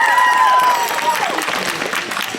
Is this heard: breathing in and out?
no